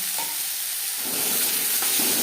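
Spiced cauliflower filling with tomato sizzles in a pan over a high gas flame, a steady loud frying hiss that swells slightly as it is stirred, with no voices.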